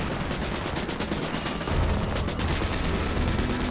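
Blank-firing gunfire on an action film set, a dense, loud, continuous burst of rapid shots with no gaps, close and harsh, and no talking.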